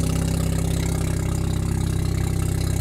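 A modified car engine idling at a Japanese car show with a rapid, even pulsing rumble, loud and close, holding steady throughout without any talk.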